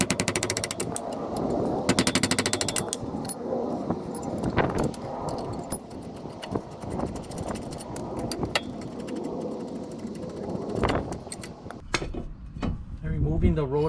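Air tools work on the two 17 mm caliper mount bolts of a 2005 Toyota Corolla front brake, with rapid rattling impact bursts mixed with metallic clinks, close up, starting and stopping over the span.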